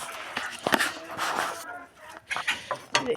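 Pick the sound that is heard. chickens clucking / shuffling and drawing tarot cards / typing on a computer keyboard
chickens clucking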